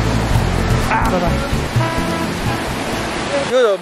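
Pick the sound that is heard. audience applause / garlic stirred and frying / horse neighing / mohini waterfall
mohini waterfall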